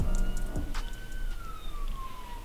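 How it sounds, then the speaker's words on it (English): An ambulance siren wails, sweeping slowly in pitch as it passes, moderately distant, over low traffic rumble, with a brief clatter near the start, in Greenland. "The ambulances just keep passing by."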